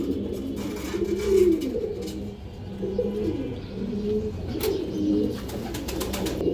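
Pet pigeons, including a silver hen and a male, coo in soft, repeated low phrases close by, with faint rustling and a few brief ticks in the background.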